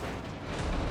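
A grenade blast in the game Alan Wake: one short, dense rumbling boom that fills the whole second and stays loud throughout, with no voices.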